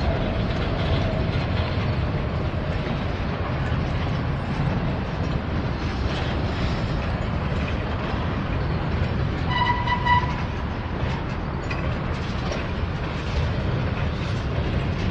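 A long freight train rolls past close by with steady heavy rumble and wheel noise throughout, a distributed power unit locomotive among the cars, with a brief tonal squeal or horn-like note partway through.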